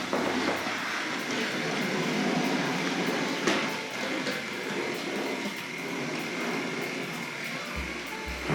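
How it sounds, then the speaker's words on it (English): A Hornby Class J83 model tank locomotive runs along the track toward the sidings, giving a continuous close whirring rumble with light clicks, alone without speech. "So we'll roll round into the long sidings."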